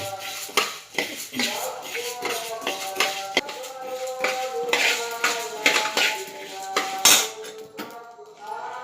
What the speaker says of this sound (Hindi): थोड़ी मीडियम आंच पर धनिया गरम करके लूँगी